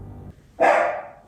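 A dog indoors lets out one sudden loud bark from upstairs in a house, a single sharp, close burst after a quiet, low murmur, with no one talking.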